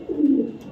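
A racing pigeon gives a single low, soft coo, close and brief.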